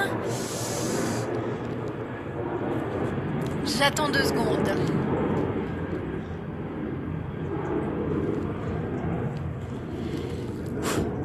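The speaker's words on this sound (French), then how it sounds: "il y a un gros avion qui passe" A broad, steady rumbling roar like a large plane passing overhead fills the clip, with a voice briefly speaking over it.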